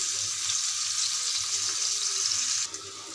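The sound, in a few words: chopped onions frying in hot oil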